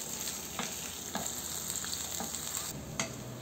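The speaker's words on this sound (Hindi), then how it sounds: "इसको चलाते रहेंगे सभी तरफ से, एक जैसे प्याज सोटे होने चाहिए" Onions sauté in a pan to a light brown for peanut udon noodles, giving a constant close sizzle and a few soft utensil scrapes as they are stirred. No voices.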